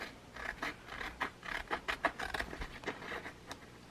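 Scissors trimming a paper embellishment for a smash book, a run of quick, close snipping cuts with light papery scraping between them and no talking.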